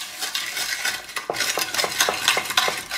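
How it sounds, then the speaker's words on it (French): Spoon stirring a teriyaki marinade of honey, sugar and pepper in a bowl, a steady scraping swirl with repeated light clinks against the side, close and continuous. "On mélange le tout."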